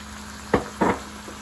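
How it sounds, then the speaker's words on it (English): Onion and chicken sautéing in a pan, with two brief bursts of sizzle and stirring standing out over a quiet, steady background. "So I just wanted everything to get nice and sauteed."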